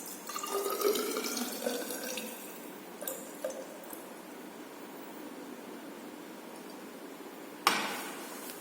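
Distilled water poured into laboratory glassware while diluting chloroacetic acid, a soft continuous trickle near the start that fades to a quiet hiss, with a sharp glassy clink near the end.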